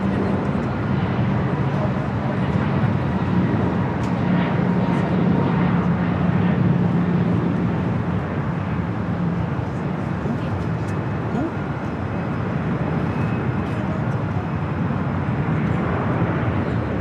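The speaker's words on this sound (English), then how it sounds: "Flight heading to Vancouver. Flight 1719 at 737-800." A Boeing 737-800 airliner on flight 1719 to Vancouver rumbles at LAX, a loud, steady, broad jet roar that holds throughout without a break.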